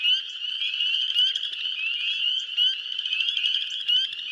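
A dense spring peeper frog chorus in a Piedmont spring setting, many high, shrill peeping calls overlapping continuously and steadily at close to moderate distance, with no talking.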